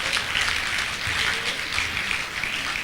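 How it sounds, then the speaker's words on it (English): Sustained applause from a graduation ceremony audience honouring the guest of honour, a steady dense wash of many hands clapping at an even level throughout, with no voices breaking through. "Can we please appreciate His Excellency with another round of applause?"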